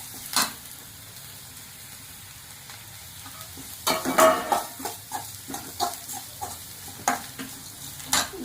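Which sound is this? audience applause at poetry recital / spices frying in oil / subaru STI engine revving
spices frying in oil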